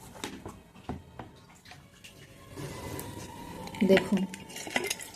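Water is poured into a small basin to fill it to the brim, a continuous splashing and trickling that rises in volume midway, heard close up with a brief spoken word over it.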